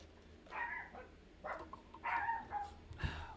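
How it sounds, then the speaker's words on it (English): Two Chihuahuas yapping indoors in short, high, sharp barks, several quick bursts close to the microphone with brief gaps between them. "I got 2 Chihuahuas, man, and Jesus Christ, they are noisy, yippity little bastards"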